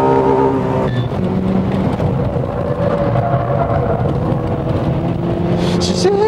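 A Mazda RX-7 chasing a Honda NSX in a race, with loud continuous engine roar and shifting revs throughout, close and dense, with faint voices in the mix.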